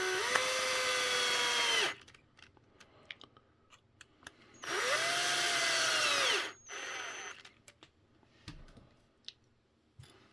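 Power driver running screws snug on a printed DX44 axle assembly, two whirring bursts of about two seconds each that rise, hold and wind down, separated by quiet clicks and handling noise, close up.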